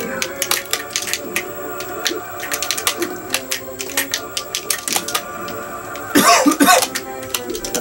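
Several short, sharp coughs come in bursts, with one harsher fit near the end, over a background of irregular clicking and tapping.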